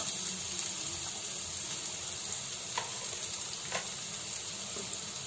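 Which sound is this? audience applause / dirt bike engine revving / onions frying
onions frying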